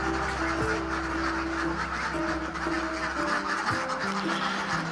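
Laying ducks at a duck farm pen quack continuously in a dense, overlapping chorus. The noise is loud and steady throughout, with many birds calling at once.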